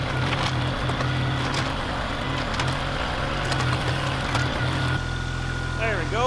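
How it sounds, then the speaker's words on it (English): A Kioti tractor's backhoe engine drones steadily and loudly throughout, with scraping and knocking from the dig and a low idle hum near the end, and a voice talks over it. "My tractor was at its limit there."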